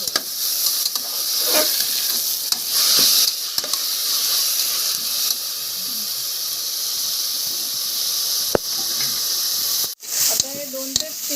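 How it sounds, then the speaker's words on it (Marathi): Tomato masala with a little salt is stirred and sizzles in a hot pan for wedding-style masale bhat. A steady frying hiss continues throughout, broken by occasional scrapes and clinks of the spoon. "तर चांगलं फिरवून घेऊया."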